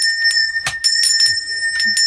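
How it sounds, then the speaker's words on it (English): A small hand bell rung insistently as if summoning a servant, repeated bright metallic jangles with short pulses throughout, close and loud, with faint background murmurs. "I just can't get the perfect bell ring."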